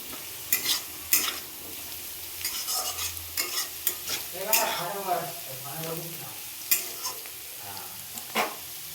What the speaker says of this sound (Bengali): আলুগুলো দিয়ে ভালো করে ভেজে নিই পেঁয়াজ আর আলুটা দেখতে পাচ্ছ ভাজা ভাজা হয়ে এসছে